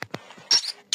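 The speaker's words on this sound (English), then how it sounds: "Mouse." A mouse gives a few tiny, high squeaks in quick succession, close and isolated over a second of near silence.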